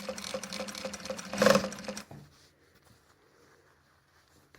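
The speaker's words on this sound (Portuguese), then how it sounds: "E dou sequência na costura. Faço um retrocessozinho." A sewing machine runs a short burst of stitching on a skirt, including a brief backstitch, with rapid regular needle clatter for about two seconds before stopping into near silence.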